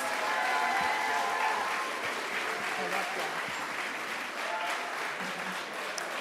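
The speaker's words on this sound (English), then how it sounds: "Let's give a round of applause again for all of our winners." Sustained audience applause for award winners at a school stepping-up ceremony, a steady wash of many hands clapping throughout, moderately distant in a large room.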